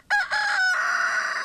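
A rooster crows on a pastured egg farm with about 600 laying hens, one loud, close, drawn-out cock-a-doodle-doo lasting over a second.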